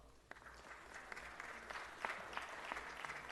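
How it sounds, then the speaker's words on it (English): Applause at a Friday city council meeting, a steady patter of many hands clapping at moderate distance, filling the short stretch without any talk. "Let's give them a big round of applause."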